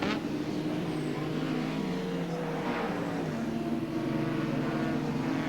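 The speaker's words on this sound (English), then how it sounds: "Here he comes now. From this point, as soon as Bauer gets onto the brakes, Tony is right up behind him" Touring cars racing at Lakeside circuit in the 1992 Australian Touring Car Championship round, a continuous engine drone with rising and falling tones as cars brake and pass, heard from a distance.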